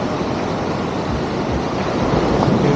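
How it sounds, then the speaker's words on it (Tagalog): Large ocean waves wash and roar continuously close by on a rocky shore, mixed with gusty wind noise, with no voices. "Yung alon na laki."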